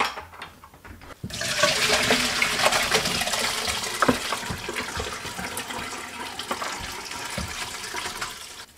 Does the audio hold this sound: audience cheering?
no